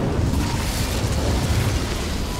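An Incendio fire spell in Hogwarts Legacy, cast inside a boiler room, sends out a loud, continuous roaring burst of flame that holds steady for a couple of seconds.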